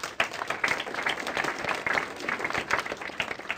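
An audience claps steadily at a political speech about a Senate vote, a dense, continuous patter of many hands that stays fairly even throughout, with no voices over it.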